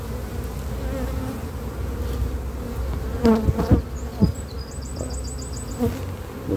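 Young honeybees on an emerging brood frame lifted from a hive give a steady, close buzzing hum throughout, with a brief spoken word and some handling knocks partway through.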